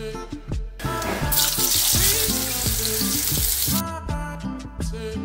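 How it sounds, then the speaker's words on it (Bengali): Thinly sliced onions hit hot oil seasoned with a bay leaf and black cumin for a Bengali cabbage dish, bursting into a loud, dense sizzle over steady background music before settling back. "আর পেঁয়াজটা দিয়ে খুব ভালো করে ভেজে নিচ্ছি"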